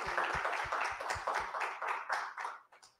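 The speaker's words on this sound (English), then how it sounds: "One more round of applause for our incredible panel," A modest audience at a literary festival panel claps for the panelists. Distinct individual hand claps stand out at first, then the clapping thins and fades toward the end.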